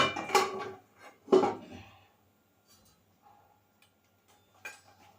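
An iron kadhai being handled in a home kitchen, two clanking metallic knocks close together at the start, then faint taps and scrapes in a quiet room.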